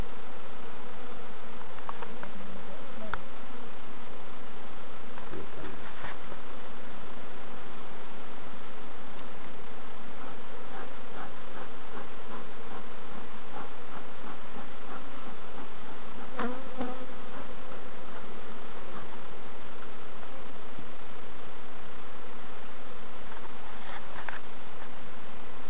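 Steady buzzing of many bees in an allotment garden fills the air, continuous and fairly close, with occasional louder passes as individual insects fly near.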